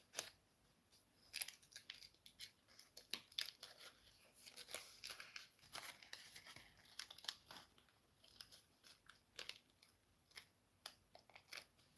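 Wrapping being peeled back from smoky cheese and bacon muffins, heard as intermittent crinkling and tearing rustles in short bursts, close and fairly quiet, with no talking.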